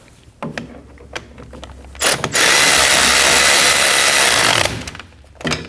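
A powered socket tool snugs a rear brake caliper bracket bolt on a 2011-2016 Kia Optima, giving one loud, steady whirring burst of about two and a half seconds, framed by a few light clicks and handling noises.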